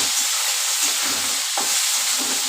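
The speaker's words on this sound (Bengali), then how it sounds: "ভালো করে ভাজা ভাজা করে নেব।" Bitter gourd fries and is stirred in a pan, a steady bright sizzle with intermittent scraping stir strokes, close and continuous with no talking.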